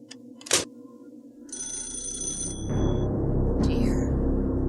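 A telephone bell rings in short bursts amid a busy indoor background, later giving way to a louder, steadier murmur of activity.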